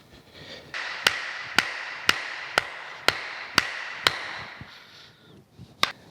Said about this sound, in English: hammer, tap that down in there.